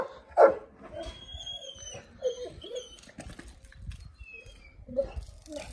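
Dogs give a few sharp barks and yips at close range, with one loud bark near the start and softer ones later. Faint whimpers and background rustling fill the gaps.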